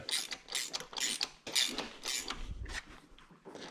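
Ratchet clicking as it tightens a part on a Ford Taurus engine, several quick bursts of close ratcheting strokes with brief pauses between, plus a low thump partway through.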